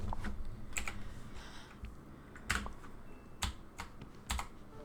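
Computer keyboard typing during a Disney Dreamlight Valley gaming session: irregular, sharp key clacks and a few louder strikes, close and clear over faint room noise, with no speech.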